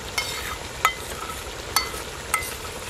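Chicken karahi, an Arabian restaurant-style dajaj karahi with yogurt just added, sizzles steadily in the pan while a utensil scrapes through it in four distinct, evenly spaced stirs.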